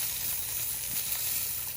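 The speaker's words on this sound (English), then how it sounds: "we got some hot, spicy sausage. Putting it on the grill, frying it up." Hot spicy sausage frying on a grill at a rainy-day tent campsite, giving a steady, dense sizzling hiss with no talk.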